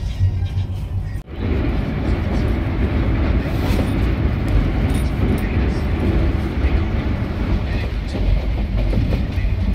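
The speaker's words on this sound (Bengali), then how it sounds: "12325 কলকাতা নাগালদাম সুপারফাস্ট এক্সপ্রেস এই মুহূর্তে তার যাত্রাপথে 313 কিলোমিটার পথ অতিক্রম করে এসে পৌঁছেছে তার দ্বিতীয় হল্ট জাসিডি জংশনে" Kolkata superfast express train pulling into Jasidih junction, a loud continuous rumble and roar of wheels and carriages close by, with a brief dip early on before the steady heavy noise resumes to the end.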